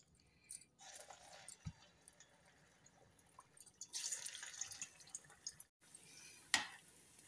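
Vada batter dropped into hot oil in a kadai for dahi vada sizzles and crackles in bursts, with a sharper splash of frying near the end; no voices.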